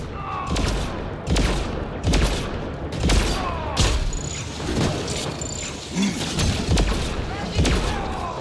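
Bursts of Mass Effect Andromeda gunfire crack out in repeated loud volleys roughly every second, sharp reports over a steady battle hiss, with a few short high electronic tones between shots.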